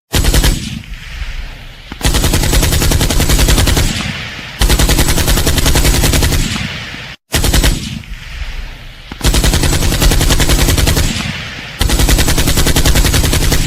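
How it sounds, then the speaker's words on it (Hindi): Bursts of rapid automatic gunfire for a war story, loud and continuous in several long volleys with brief gaps, the whole pattern repeating after a short cut of silence. "हरियाणा का ये जाट अल्ताफ के ऊपर कई राउंड्स फायर करता"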